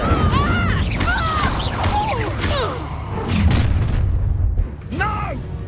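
Fire spell casts from Hogwarts Legacy, heard as bursts and whooshes mixed with shouted dialogue and dense combat effects throughout.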